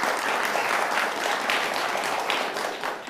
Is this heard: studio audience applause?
yes